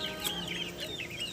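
Chickens cluck in a rural backyard garden in the province, a soft, continuous farmyard chatter of several birds heard at a modest distance with no talking.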